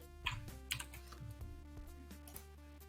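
Keys on a computer keyboard are pressed while coding in Kotlin, including Alt+Enter shortcuts, giving faint, sparse clicks and taps close up over a quiet background hum.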